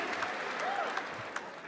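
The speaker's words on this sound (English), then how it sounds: "Even women were clapping." A comedy show audience in the Middle East claps steadily, a dense wash of applause with a few sharper claps poking through and faint crowd voices beneath.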